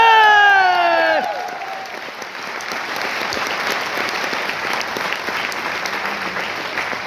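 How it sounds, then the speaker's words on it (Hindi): Audience applause in a hall, a dense steady clatter of many hands that keeps going for several seconds after a voice finishes speaking at the start. "आपने इतनी तालियां बजाई"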